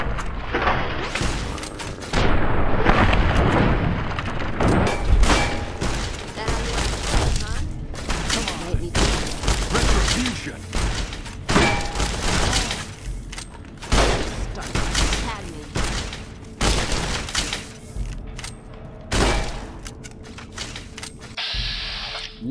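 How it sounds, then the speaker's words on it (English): Repeated heavy gunfire and explosive blasts from a weapon in Fallout New Vegas, loud and close, in uneven bursts of booming shots filling the whole stretch. "Is it the gun that's exploding when I fire it?"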